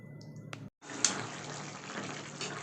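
Potato and vegetable curry simmering and boiling in a pot, a steady bubbling, hissing wash that runs continuously after a brief pause, close and moderately loud with no talk.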